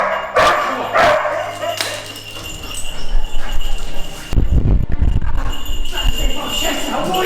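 Search-and-rescue dog with a firefighters' canine team barking during a training exercise, a few sharp barks close by early on, then rustling and handling sounds with voices in the background.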